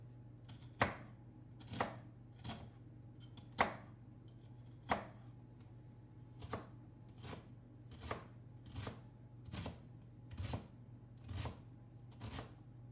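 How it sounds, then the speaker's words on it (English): Knife finely dicing onion on a cutting board while beef and cheese enchiladas are prepared: a series of about a dozen crisp, evenly spaced chops, close and clear over a steady low hum. "Just like the other onion, I'm going to fine dice it."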